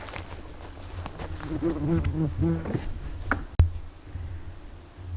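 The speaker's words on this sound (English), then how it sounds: "You got a wasp right on the camera." Wasp buzzing close by at a bear bait site in a Minnesota no-quota zone, a wavering drone under voices speaking, with a sharp knock partway through.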